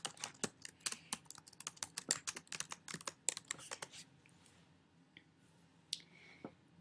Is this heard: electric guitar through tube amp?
no